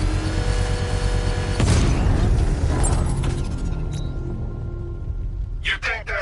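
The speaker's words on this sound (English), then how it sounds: "I can use the power winch to trigger a controlled explosion" Controlled bomb detonation set off with a power winch in Batman Arkham Knight, a deep booming blast over low mechanical rumble that fades into debris crackle and scattered game effects.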